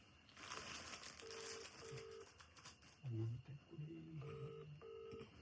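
Phone call being placed to dad: a series of short keypad dial tones followed by a burst of noise and more tones, with people talking quietly in the background.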